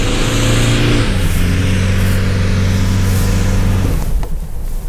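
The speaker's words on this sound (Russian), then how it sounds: "Выше, естественно, раскручивается двигатель быстрее," Toyota Fortuner 2021 engine revving hard in low gear off-road, a loud steady droning tone that shifts pitch after a second, then eases off near the end, with no talking.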